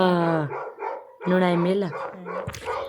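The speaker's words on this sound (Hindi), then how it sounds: "कुत्ते इतने भौंक रहे" Dogs barking in a hill village in India, loud repeated barks and yelps up close, mixed with people talking throughout.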